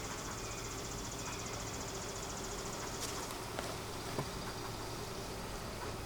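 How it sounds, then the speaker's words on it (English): Honeybees buzz inside an opened beehive whose lower frames are wet and slimed, a dense continuous droning hum that holds steady and close the whole time. "There's a few bees."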